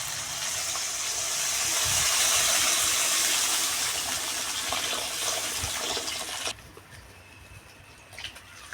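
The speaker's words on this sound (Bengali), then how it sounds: "এবার আমি দিয়ে দেব জল।" Water pours into a hot pan of sautéed potatoes with a loud steady gushing hiss that holds for several seconds, then cuts off abruptly, leaving faint quiet clinks; close and alone without talking.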